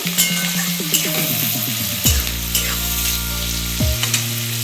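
Onion frying in a pan with turmeric and salt while greens are cooked, a steady loud sizzle broken by a few scraping stirs, with no talk.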